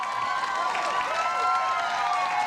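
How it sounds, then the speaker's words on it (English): Studio audience at a late-night talk show applauding a joke, a steady wash of clapping with scattered cheers held at an even level throughout. "Do not applaud a penis joke."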